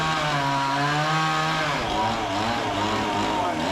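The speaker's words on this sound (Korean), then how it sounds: "상당히 큰 나무였는데 잔가지 부분은 이미 다 잘라냈고 이제 남아있는 굵은 부분을 자르고 있네요." A chainsaw cuts through the thick trunk of a large tree outdoors, a loud, steady engine drone near at hand that shifts pitch as the chain bites into the wood.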